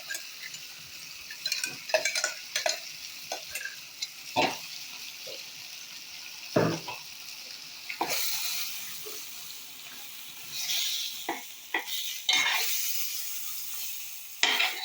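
Green chilli, coriander, mint and ginger-garlic paste fry with chicken in a pan, a soft sizzle broken by scattered scraping and stirring clatters at an uneven pace, with no talking.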